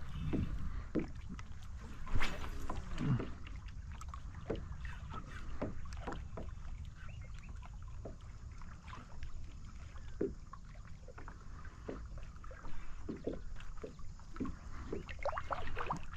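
Kayak paddling along a rock wall while fishing for white perch: soft, repeated paddle strokes and water splashes close by, with light wind noise throughout and no talking.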